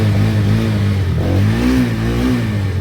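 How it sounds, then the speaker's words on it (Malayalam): A motorbike engine runs close by, revving so its pitch rises and falls in a steady, continuous drone with no voices. "ഇനി ഒറ്റ ക്ലിക്കിൽ വണ്ടി ഓണാവും"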